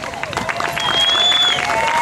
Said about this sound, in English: Let's have a round of applause for Larry.